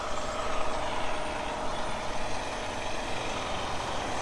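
An old 2018 Peterbilt 389 truck making a turn, its steady diesel engine rumble held loud and close throughout, with no voices.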